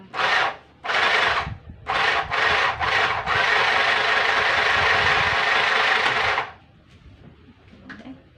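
A mini electric sewing machine whirs in several short bursts, then runs continuously for about three seconds before stopping, leaving a quiet room with faint rustling.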